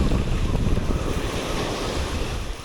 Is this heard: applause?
no